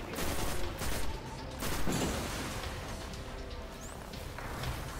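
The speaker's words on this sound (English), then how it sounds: "They just walk slowly at you and shoot" Geth enemies firing weapons in Destiny 2, a steady stream of mid-distance gunfire with scattered impacts and crashes running continuously through a busy game battle.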